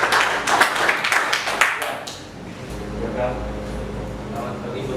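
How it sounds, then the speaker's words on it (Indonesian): A classroom of students clapping for a student group after a presentation, dense clapping for about two seconds that then fades into room hum and quiet murmuring. "kita tepuk tangan dulu untuk kelompok 2"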